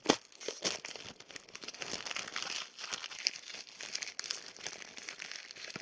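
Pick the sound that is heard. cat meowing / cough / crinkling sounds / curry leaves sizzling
crinkling sounds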